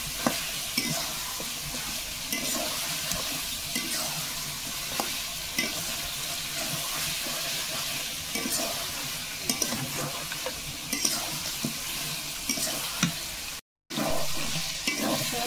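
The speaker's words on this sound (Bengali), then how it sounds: "এটা মাংসের সাথে ভালো করে মিশিয়ে নিতে হবে।" Meat and ground whole spices are stirred together in a hot pan, a continuous sizzle and fry running under repeated scraping strokes, close and steady with no speech.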